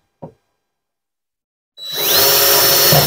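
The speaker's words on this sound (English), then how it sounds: "drill the holes" After a single soft knock and a moment of silence, a power drill spins up loudly and bites into wood, grinding steadily at close range.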